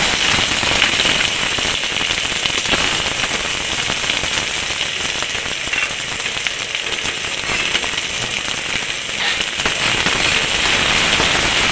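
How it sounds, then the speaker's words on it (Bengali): Chopped onion dropped into hot oil where dried red chillies were just fried, giving a loud, steady crackling sizzle with dense popping that runs unbroken throughout, close by and with no talking. "তেলের মধ্যে দিয়ে দেবো কাটা পেঁয়াজ"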